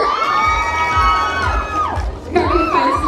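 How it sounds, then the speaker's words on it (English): An audience at a beauty convention cheers and whoops as a guest is welcomed, loud crowd shouts with music playing underneath and a burst of renewed cheering near the end. "Please, yes, a round of applause for Albert."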